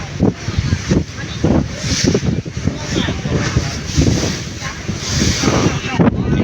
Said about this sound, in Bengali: বিশাল ঢেউ মেঘনার ঢেউ